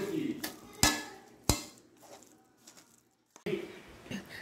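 Chicken biriyani gets stirred in a pot, with sharp metal spoon clanks against the vessel and soft scraping and rustling of rice between them, close and moderately loud.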